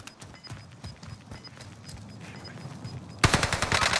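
Rapid gunfire in a video game, a steady run of quick shots under light background noise that suddenly grows louder and harsher near the end, with no clear voices.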